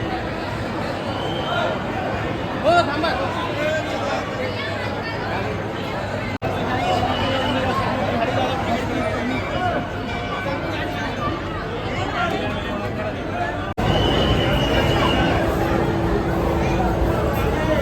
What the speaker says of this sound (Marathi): भाविकांची गर्दी बघू शकता तुम्ही